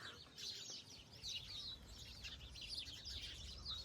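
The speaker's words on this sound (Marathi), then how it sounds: "खूप साऱ्या चिमण्या" Many sparrows chirp and twitter together in a busy, continuous chorus, fairly near, with a steady low background rumble and no talking.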